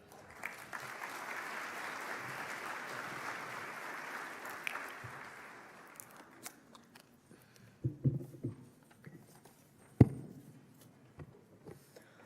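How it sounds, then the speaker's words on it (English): Audience applause for panelists at a school summer programme closing ceremony, a dense burst of clapping for about six seconds that dies away into scattered claps, shuffling and thumps. "Let's give them a round of applause."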